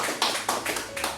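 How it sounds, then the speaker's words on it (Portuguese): A church congregation claps in a short burst of several sharp, uneven hand claps, close and fairly loud, with no one speaking. "Dá uma linda salva de palmas para Jesus."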